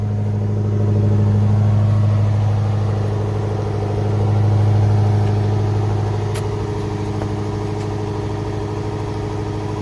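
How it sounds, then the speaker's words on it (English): A 2019 Maserati Levante GTS with a 3.8L twin-turbo V8 revs up close, the engine idling low and swelling twice in slow, smooth blips before settling back to a steady rumble. "Oh, okay, we're gonna rev it."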